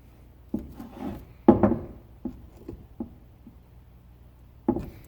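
Pry tools of two sizes, one thin and one fat, scrape and pick caked mud out of pry points during machine maintenance, giving a run of irregular close scrapes and knocks with one louder grinding burst midway and no voices.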